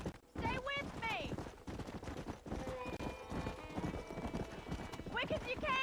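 Rapid rhythmic hoofbeats of a galloping horse in Red Dead Redemption, loud and close, with gunfire bursts, a whinny, music and overlapping character voices throughout.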